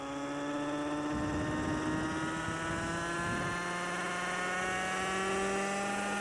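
A 1985-era RC model helicopter engine throttling up toward half throttle, a steady buzzing whine that rises gradually in pitch, loud and close, with no talk.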